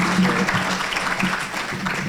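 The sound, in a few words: applause for the mayor at a meeting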